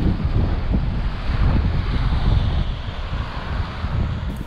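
Waves wash onto the beach below Calshot Castle on Southampton Water, a constant low rushing roar mixed with wind buffeting the microphone, loud and unbroken throughout with no speech.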